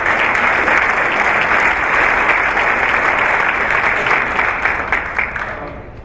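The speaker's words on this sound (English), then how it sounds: "So give them a round of applause." An audience bursts into loud, sustained applause for newly announced school principals at a district State of the District gathering. The clapping is dense and close, then thins slightly toward the end.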